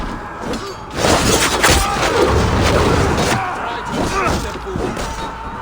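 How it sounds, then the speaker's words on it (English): Wooden barricade smashed in the video game Assassin's Creed Valhalla, a loud splintering crash followed by several seconds of rumbling, cracking debris and heavy thuds. "Path is blocked! We must destroy that barricade!"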